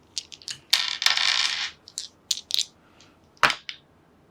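Several dice clatter and rattle on a tabletop during a Marvel Zombies board game, in a few sharp bursts with a longer tumbling roll, close and fairly quiet, no talking.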